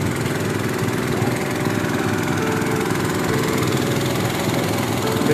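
Several motorcycle engines running together after a long ride, a steady, close, rattling drone that holds even throughout with no break.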